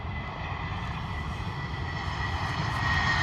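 A Wizz Air jet airliner in a special livery touches down on the runway, its engines giving a steady, broad roar that stays loud and even throughout, with no voices.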